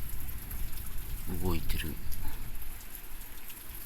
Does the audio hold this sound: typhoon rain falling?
yes